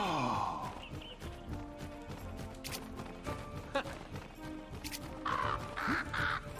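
Birds caw in Neopets The Darkest Faerie, a few harsh calls rising over a busy game soundtrack of music and effects.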